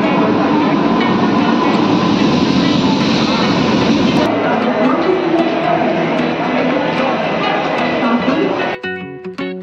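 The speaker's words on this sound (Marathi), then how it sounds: "आता ट्रेन आलेली." A train pulls in at a busy Mumbai station platform with a loud, continuous roar and rumble that shifts midway, then fades as brief tonal chimes or voices come through at the end.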